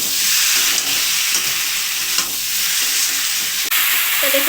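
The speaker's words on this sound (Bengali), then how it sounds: "আমি 2 মিনিট আলুটা মশলার সঙ্গে কষিয়ে নিয়েছি।" Boiled potatoes are sautéed with spices and tomato in a pan, giving a loud, steady sizzle broken by brief stirring clatters and a utensil knock near the end, with no one speaking.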